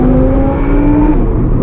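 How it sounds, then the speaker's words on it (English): A car fitted with an FI exhaust revs loudly at a JDM night meet, a close, sustained drone that holds its pitch and then drops slightly, with no talk. "The freaking FI exhaust sounds magnificent."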